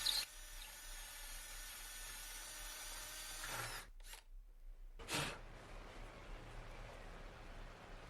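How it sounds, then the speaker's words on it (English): A power drill with an 11mm bit whines steadily for several seconds while opening up a footstool for upholstery, stops, then gives two short bursts, fairly close and moderately loud. "we're going to open this up using our 11mm drill bit"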